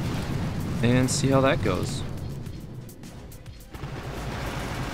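A Boom Beach artillery barrage rumbles with low, sustained booms and a heavier thud toward the end, partly under a voice speaking briefly early on.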